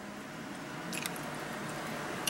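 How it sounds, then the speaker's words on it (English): Close, wet chewing of Trident Swedish Fish flavored gum, a steady soft smacking and squishing through the short stretch with no talking. "It tastes just like I'm chewing the Swedish Fish."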